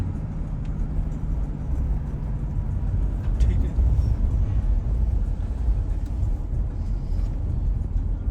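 Car rolling downhill on a mountain road in Ladakh, a steady low rumble of engine and road noise heard from inside, continuous and fairly loud throughout.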